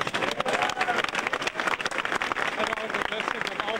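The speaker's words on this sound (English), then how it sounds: "Let's give them a nice round of applause" Crowd applause for five contestants at the International Bootblack 2000 competition, dense clapping mixed with cheers and voices, loud and continuous throughout.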